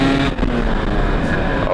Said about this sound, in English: so now we're gonna make our way up to fifth gear